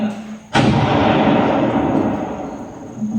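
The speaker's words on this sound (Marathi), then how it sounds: "आणि तेवढ्यात दणकन तोफेचा आवाज कळला" A single cannon blast fired from a hill fort, a sudden loud boom about half a second in that rolls and rumbles away over the next few seconds.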